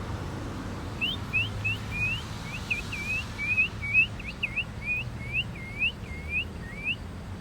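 Small birds chirp near a backyard feeder, a steady run of quick, bright whistled calls repeating about every half second against faint background hum.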